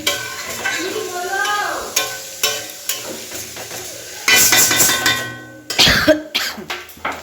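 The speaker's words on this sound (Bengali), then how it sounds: "এখন ডিমটাকে এখন ভেজে নিচ্ছি" Eggs fry in a pan for an egg curry, giving sizzling and spatter with repeated stirring scrapes, then a sudden louder burst of crackling toward the end.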